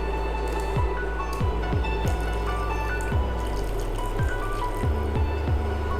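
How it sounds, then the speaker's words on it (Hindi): Hot water poured into mutton simmering in oil in a kadhai, giving a steady liquid sizzle and bubbling with repeated short drips and squishy pops throughout, close and moderately loud, with no talking. "अब इसमें हम गर्म पानी डालेंगे।"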